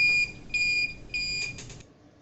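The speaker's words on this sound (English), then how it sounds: "another first beep starts playing. This indicates that the device is connecting to a Wi-Fi network." A steady electronic beep tone sounds in on-off pulses, a few long beeps in quick succession, then stops, from a saline monitoring device connecting to a Wi-Fi network.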